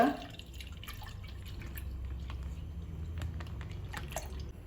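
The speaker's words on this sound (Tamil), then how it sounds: "ஒரு பாத்திரத்தில் ஒரு அரை லிட்டர் பால் சேர்த்துக்கோங்க" Half a litre of thick milk pours steadily into a cooking pot, a continuous low liquid rush with faint dripping and splashing, close and moderately loud, with no speech.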